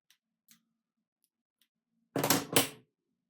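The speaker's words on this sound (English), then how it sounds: "I don't know why I'm using those scissors." Scissors snip twice in quick succession while a bass fly is tied, with body tubing on the hook; a few faint ticks come first, then the two close, crisp cuts alone.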